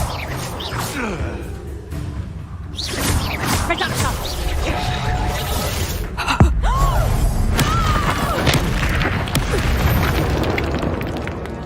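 Confringo spell explosions in the Hogwarts Legacy video game, loud booming blasts and whooshes over a dense, continuous wash of battle effects and music, with a sharp burst standing out midway.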